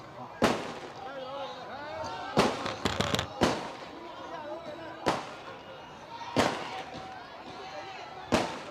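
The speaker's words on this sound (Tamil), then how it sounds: "பட்டாசு" Firecrackers burst in sharp, loud cracks, some single and some in quick clusters, spaced a second or two apart, while a crowd murmurs and people talk at a political gathering.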